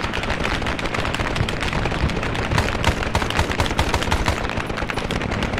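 Sustained rapid gunfire in Arma 3, dense overlapping automatic bursts and shots crackling loud and continuous, with no talking over it.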